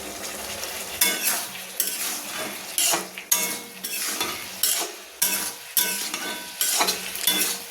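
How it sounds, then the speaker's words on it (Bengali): A spatula scrapes and stirs fried pointed gourd, potato and soybean chunks in a hot pan, repeated metallic strokes over a constant sizzle, close up and with no talking. "এবার ভেজে রাখা পটল আলু এগুলোকে সোয়াবিন দিয়ে দেব দিয়ে বেশি করে নেড়ে নেব"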